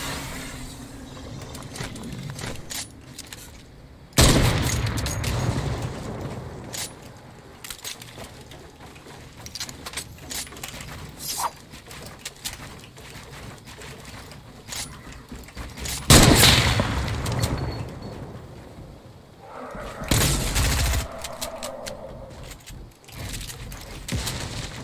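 Bursts of gunfire and heavy rocket-style blasts in a zombie shooter video game, sharp loud explosions at intervals over a busy stretch of rapid shots and crackling combat noise.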